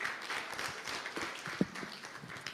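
An audience at an annual meeting in Zanzibar gives quiet, scattered applause, distant and thin, with a few sharper claps near the end.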